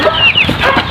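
Laying hens clucking close by on a farm, a quick string of loud, nasal clucks and short squawks packed into about a second.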